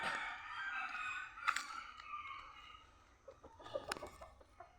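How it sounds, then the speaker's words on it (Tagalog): Chickens clucking nearby at feeding time in short, scattered bursts, with a few sharper calls and a quieter stretch in between. "pakain tayo ng manok ni Alvin."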